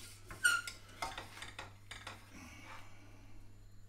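Metal whisk clattering and scraping against a bowl while mixing a moussaka mixture, with a series of irregular clinks and taps that fade to a softer stir, close and alone.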